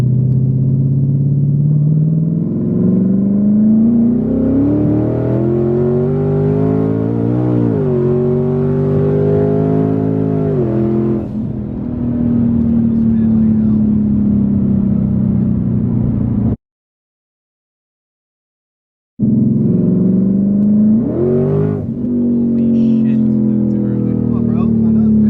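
A 1000hp twin-turbo Ford Mustang accelerates hard, its loud, close engine note climbing steeply and dropping sharply at each gear shift before winding up again. The sound breaks off briefly, then resumes with another climbing pull.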